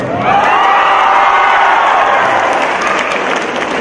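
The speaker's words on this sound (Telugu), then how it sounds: "దేవిశ్రీ ప్రసాద్ పేరు చెప్పగానే అందరూ చప్పట్లు కొట్టారు" Audience at a public speech breaking into loud applause, a dense burst of clapping from a large crowd that swells in quickly, holds steady and begins to fade, with a few cheers mixed in.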